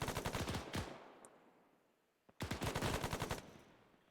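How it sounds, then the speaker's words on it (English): Two sustained bursts of rapid automatic gunfire in a military video game, the first from the start to about 0.8 s and the second from about 2.4 to 3.6 s, loud and close. A quieter decaying tail fills the gap, and no talking is heard. "I'm just kind of shooting to suppress."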